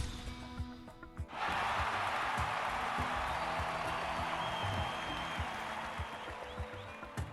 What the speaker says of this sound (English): Who is it that applauds?